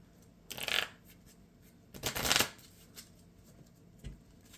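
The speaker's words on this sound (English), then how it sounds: "so then we'll shuffled his deck after I searched" A deck of cards is shuffled during a Marvel Champions tabletop game, with two distinct riffling bursts close to the microphone, the second longer, followed by a couple of light taps, in a quiet room.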